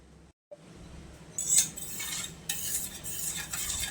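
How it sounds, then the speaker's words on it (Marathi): A spoon stirs a pot of hing, ginger and chili, scraping and clinking against the metal sides in short bursts with brief pauses between, close and fairly quiet. "ते ढवळून घेऊया."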